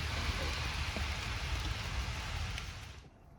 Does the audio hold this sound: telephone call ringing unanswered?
no